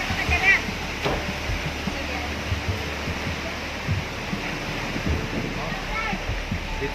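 Strong wind roars steadily outdoors in the aftermath of Typhoon Odette, a loud broadband rush with gusty swells and buffeting on the microphone.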